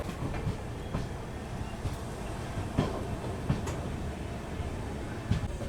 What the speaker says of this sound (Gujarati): તો ભાઈ આપણી ટ્રેને લોંડા જંકશનથી ડિપાર્ટ લઈ લીધું છે